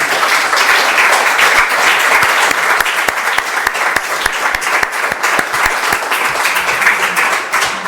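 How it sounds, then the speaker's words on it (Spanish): An audience at a book presentation at the University of Alicante's city venue in Alicante bursts into sustained, loud applause, dense clapping carrying on steadily throughout with sharper individual claps standing out. "os pediría un aplauso que yo creo que sí que oirá Bárbara"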